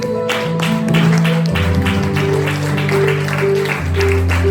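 Church congregation clapping in praise during a service, a brisk sustained patter of many hands over sustained organ or keyboard chords, moderately loud and continuous throughout.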